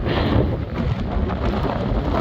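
Strong wind of about 25 miles per hour roars steadily across the microphone on a cold day near Las Vegas, a dense, constant rumble with no voices and no breaks.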